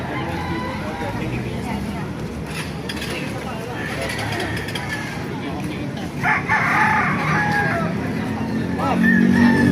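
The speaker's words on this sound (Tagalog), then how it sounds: "Ang mga manok dito sa Baliwag yan." A gamecock crows amid a busy outdoor scene in Baliwag, Philippines, with a constant rumble of engines and other birds clucking nearby.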